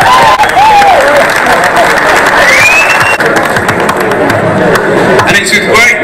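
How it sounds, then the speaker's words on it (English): A crowd applauds and cheers steadily for the runner-up at a national squash championship final, with dense clapping sustained throughout and a few whistles rising over it. "Can everyone just have a big round of applause for our runner-up, Andrew Douglas?"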